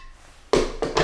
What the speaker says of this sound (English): that is the noise of terracotta pot.